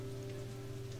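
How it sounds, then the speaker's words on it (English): Steady rain falling in a scene from the Cowboy Bebop anime movie, a soft continuous hiss of drops on a surface over a low sustained tonal hum, with no talking. "A rain to wash the world clean."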